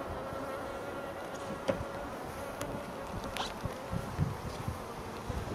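Bees buzz steadily around beehives being inspected outdoors on a cloudy, windy day, a dense insect hum with a few louder passes of single bees close by.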